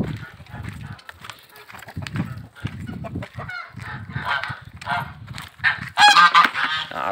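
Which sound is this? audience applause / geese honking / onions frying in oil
geese honking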